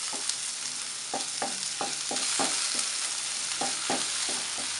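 Shrimp stir-fried in a pan for a chili shrimp dish with glass noodles and cha-om crackles under a constant sizzle, punctuated by rhythmic spatula scrapes and taps against the pan, close up with no voices.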